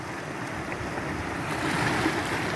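Rough sea waves churn and wash steadily, a broad, continuous roar of surf growing slightly louder, with no voices present.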